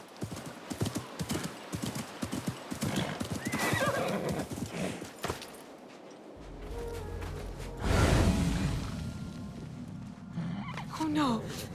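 Galloping horse hooves in a clip-clop rhythm followed by a loud neigh in the game Assassin's Creed Mirage, with whooshing movement and brief voices mixed in.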